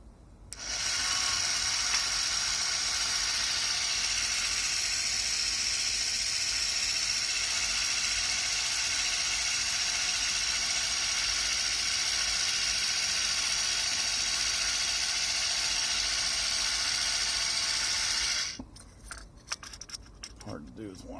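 A Yonezawa Sherman toy tank's small motor whirs continuously at a steady high pitch with a gear-driven buzz for about seventeen seconds, then cuts off, followed by brief clicks and handling noises.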